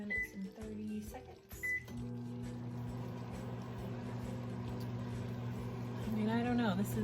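A kitchen microwave oven being set to cook rice, with a couple of keypad beeps followed by the steady hum of the oven running, quiet and close, with a voice speaking over part of it.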